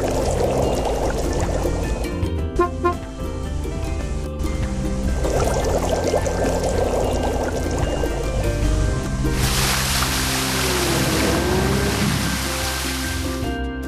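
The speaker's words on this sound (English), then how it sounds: "Let's fill it with water and turn the fountain on." A water tank fills while a fountain runs, giving a continuous loud rush of pouring, splashing water that swells louder and brighter near the end.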